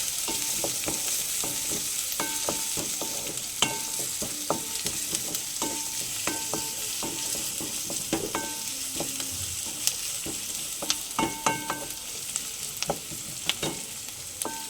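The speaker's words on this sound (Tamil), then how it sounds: "அது வரைக்கும் பார்த்திங்கன்னா கொஞ்சம் நல்லா வதக்கி விட்டுட்டே இருக்கலாம்" Onions sautéing in a pan for egg chapati, a steady sizzle of frying with repeated sharp clinks and scrapes of a spoon stirring against the metal throughout.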